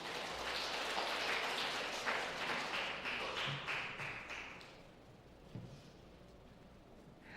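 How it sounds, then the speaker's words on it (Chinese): Congregation applause welcoming an elder at a Sunday church service: a soft, distant patter of many hands that fades over several seconds, sounding almost like rain, with a couple of faint thumps near the end. "我们请我们信长长老拍手一下"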